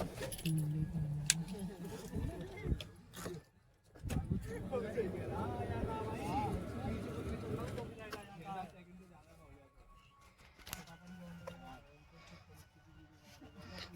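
Basic keys for a Mahindra Thar jangle and clink in a hand, with small metallic rattles and taps recurring through the stretch, under steady nearby talk.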